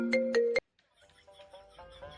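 A mobile phone ringtone plays in an Assamese comedy short film: a short, bright, repeating tone that cuts off after about half a second, followed by faint quieter sounds.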